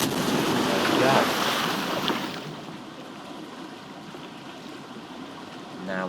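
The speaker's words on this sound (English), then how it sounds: "And into the splashdown." In the Planet Coaster video game, a water coaster hits its splashdown with a loud rushing surge of water that fades after a couple of seconds into a softer wash, with a brief splash near the end.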